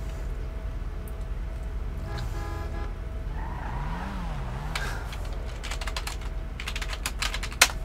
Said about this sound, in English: There may be some typing here.